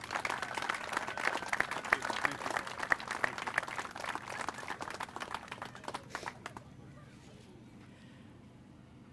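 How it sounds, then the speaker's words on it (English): An outdoor audience claps at a park ribbon cutting, a dense burst of applause that thins and fades out over several seconds before falling quiet. "Big applause for Tom, Ant, and Gary."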